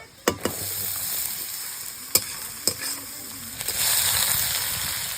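Chopped onions frying in hot oil with ginger and garlic for a chicken samosa filling: a steady close sizzle with a few sharp clacks of a stirring utensil, and the hiss swelling louder near the end.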